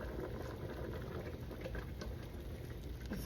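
Spaghetti boils in a pot of water with butter added, giving a steady, soft bubbling and gentle rolling simmer that stays faint and even throughout, with no talking.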